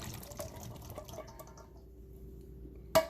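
Liquid from two canned beans drains through a kitchen strainer as a soft, steady trickle and drip that fades away, ending with one sharp close clink.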